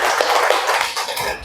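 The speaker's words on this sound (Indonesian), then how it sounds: "Tepuk tangan buat Dede Sasa." Classroom applause for a pupil: a dense, steady patter of many hands clapping together, fairly close and loud, with no voices over it.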